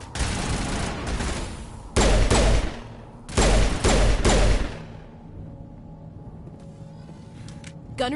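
Gunfire in Mass Effect 1 on PS4, several loud bursts of rapid shots in quick clusters, separated by brief lulls over a low ambient hum.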